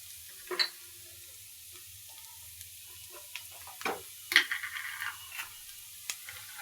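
Fish frying in a pan with onions, a faint steady sizzle broken by occasional soft clicks and scrapes of stirring, close and quiet with no speech.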